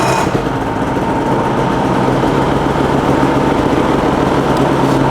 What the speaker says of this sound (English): We're then going to move into actually starting the sled.